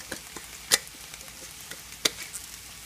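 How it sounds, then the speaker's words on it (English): Fajita seasonings stirred in an electric skillet, soft scraping and tapping with two sharper clicks of the utensil against the pan over a faint steady sizzle. "Let's give these a stir real quick."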